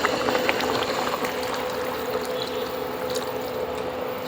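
Mung dal boiling in a pot with water being added, a steady close bubbling and liquid wash that holds evenly throughout with no talk.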